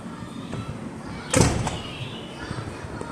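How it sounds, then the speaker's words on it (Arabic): A small door on a cage for Iraqi bulbuls shuts with a single sharp knock, heard near and fairly loud over low room noise. "هذا يسد الباب"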